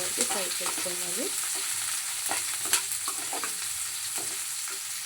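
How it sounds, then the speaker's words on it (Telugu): Onions fry in a pan for mushroom fried rice, a steady close sizzle with scraping and stirring strokes from a spatula throughout. "ఇలా మంచిగా ఆనియన్స్ గోల్డ్ కలర్ వచ్చేంత వరకు ఫ్రై చేసుకోవాలి."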